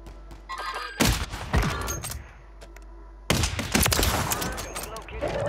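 Sniper rifle shots in a video game land as two heavy, sharp blasts with booming tails, each followed by scattered gunfire and thuds, with a player's voice talking between them.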